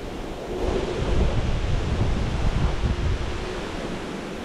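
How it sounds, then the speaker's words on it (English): Strong wind roars and buffets the microphone ahead of a storm at an outdoor fishing spot, a broad rushing howl swelling after a quieter start and holding steady, loud and close with no voices. "Have a listen to this bloody wind howling now."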